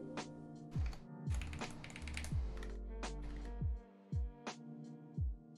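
Keys on a polycarbonate mechanical keyboard being pressed, a sparse run of soft clacky keystrokes, some in quick bursts and some single, close and fairly quiet with no talking.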